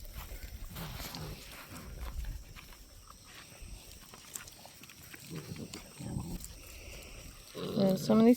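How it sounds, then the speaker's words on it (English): Young Maremma sheepdog puppies growling, yipping and scuffling in rough play, with a brief sharp yelp near the end; no one speaks. "some of these puppies are playing rough"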